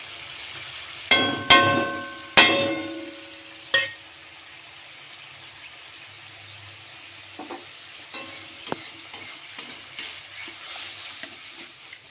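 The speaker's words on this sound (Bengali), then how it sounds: "সব মশলাগুলোকে একসাথে কষাবো একটু" A pan of potato and egg curry with salt, turmeric, Kashmiri chilli, amchur, coriander and cumin being stirred, with several sharp metallic spatula scrapes and clinks early on, then softer intermittent stirring knocks over a faint sizzle.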